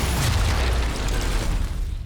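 Gunfire in the video game Sniper Elite 4: a loud, deep boom with heavy low-end rumble that carries through the whole two seconds, then tails off slightly, with no speech over it.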